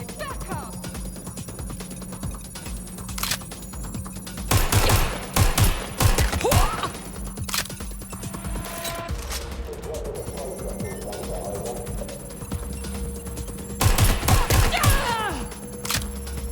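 Gunfire in the video game Watch Dogs Legion comes in short clustered volleys of sharp shots over a constant electronic hum and game ambience.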